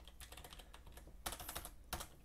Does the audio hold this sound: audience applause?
no